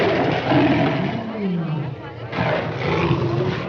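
A lion roars in a 1941 film scene, a deep, rough, sustained bellow that swells and rolls with a falling growl in the middle, loud and close over background movie sound.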